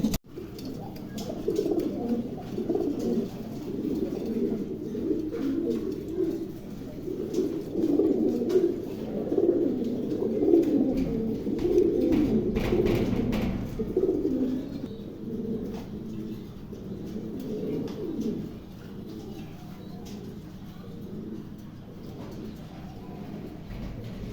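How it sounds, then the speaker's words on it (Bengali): A pair of pigeons at a bird market coo in repeated soft, throaty rolling calls, close by and continuous over a faint background hum, with no talking. "চমৎকার এক জোড়া কবুতর, ভালো লাগলে অবশ্যই সংগ্রহ করতে পারেন।"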